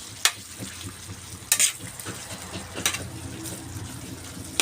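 Cream sticks (krim stick) frying in hot oil while being stirred, a steady sizzle broken by a few sharp scraping clicks, close and moderately loud with no talking.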